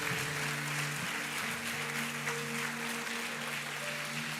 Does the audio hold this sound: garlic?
no